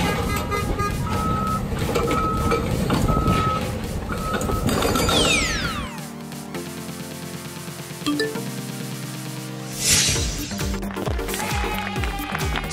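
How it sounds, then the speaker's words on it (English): A concrete-breaking excavator works on demolition, giving loud, continuous machine clatter and grinding with rhythmic knocking, a rising mechanical whine, and a burst of harsh crushing near the end. "Concrete breaking excavator."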